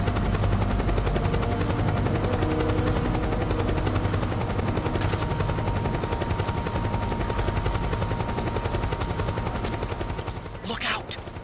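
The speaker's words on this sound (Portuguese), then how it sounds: "Tem helicóptero ali." Helicopter in the video game Metal Gear Solid 4, a steady rotor drone running loud and continuous throughout, mixed with in-game gunfire and ambient battle noise.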